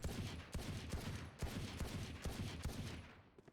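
Pistol shots from the Sheriff in Valorant, roughly five heavy cracks spaced about a second apart over a constant game background, fading out at the end.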